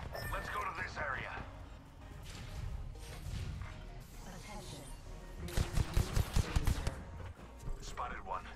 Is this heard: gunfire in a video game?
yes